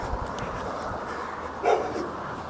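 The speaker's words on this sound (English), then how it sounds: "It sounds like a less friendly doggy." In a small Irish town, a single dog bark rings out once at a middle distance over a steady bed of outdoor background noise, with no talking.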